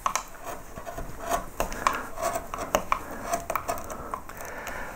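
Narrow chisels carving lettering into a wooden beer caddy by hand, giving soft irregular scraping and tapping cuts at close range, quiet and steady, with no talk.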